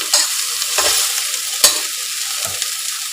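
Tomatoes and onions sauté in rice bran oil, a continuous bright sizzle broken by several scraping spatula stirs against the pan, close and fairly loud, with no voices.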